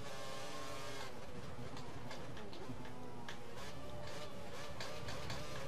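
A Formula 1 car in the racing game F1 2013 on a wet track, its engine tone climbing through gears with rapid upshift steps, steady and continuous beneath game sounds.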